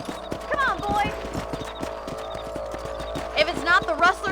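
Horse hooves clip-clop at a steady gallop in the Red Dead Redemption video game, a continuous rhythmic drumming of close, moderately loud footfalls under game ambience, with brief voice-like tonal calls layered on top.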